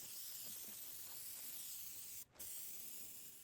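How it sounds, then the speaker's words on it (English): Aerosol spray can of 3-in-1 clear coat being sprayed onto a car headlight, a steady close hiss running almost the whole time with one brief pause. "Now it's time to spray."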